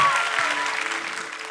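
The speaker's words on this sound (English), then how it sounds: "I think you just gave Jesus a nice little applause" Church congregation applause at a healing and prophetic conference, a broad wash of clapping that gradually fades away over a second and a half, with a faint voice underneath.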